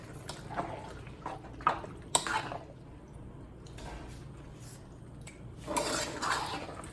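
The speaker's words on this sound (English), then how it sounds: "I'm going to add some butter before I stir it. And then I'm going to stir it." A spoon stirring Haitian legume, a vegetable stew, in a pot: faint scrapes and soft clinks against the pot come in scattered bursts over quiet kitchen background, with a louder spell of stirring near the end.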